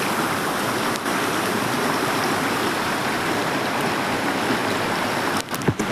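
A swollen river in the Konkan rushes steadily past, a loud, dense broadband wash of flowing water that fills the whole stretch alone, with a few brief knocks or handling bumps near the end.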